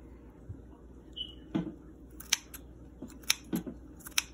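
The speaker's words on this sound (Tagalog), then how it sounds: "Kailangan matalas ang gunting mo pag ginamit mo sa pang slice ng meat." Kitchen scissors snip through pork chop meat in a run of sharp, close clicks and crunches, with irregular cuts spaced about half a second to a second apart against a quiet kitchen background.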